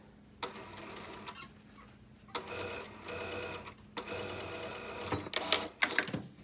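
Sewing machine sewing a straight half-inch seam on a knife-edge bolster, running in several bursts of brisk whirring separated by short quiet gaps, fairly close but soft, with no voices.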